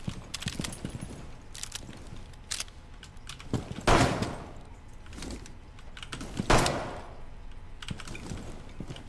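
Video game gunfire rings out in scattered sharp bursts and single cracks, with two louder, heavier shots standing out among lighter rapid clicks.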